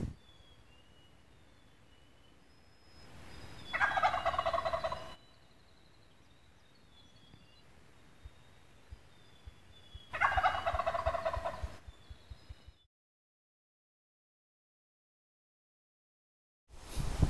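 Wild turkeys at a hunt gobble in two loud, close rattling bursts separated by quiet field ambience, followed by near silence.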